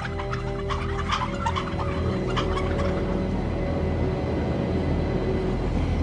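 A crowd of turkeys in a poultry house gobbles continuously, with overlapping calls over a dense, steady background din.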